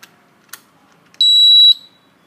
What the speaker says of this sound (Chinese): 听到第一声长鸣之后，